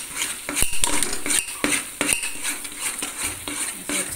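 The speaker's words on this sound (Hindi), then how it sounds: "इसको साथ के साथ चलाते रहें" Roasted wheat flour being stirred in a pan with a metal spoon, a rapid series of close scraping clinks against the pan under a soft frying hiss.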